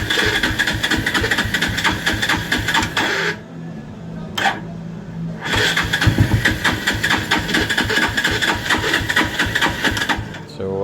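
Rouser 180 motorcycle that has sat unused for a long time being started, its engine cranking and running with a steady rapid mid-pitched chatter, cutting out briefly twice before catching again, close and loud.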